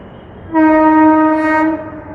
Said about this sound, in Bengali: 1 নম্বর দিয়ে যাচ্ছে যেটা, সেটা কিন্তু এর লোকাল ট্রেন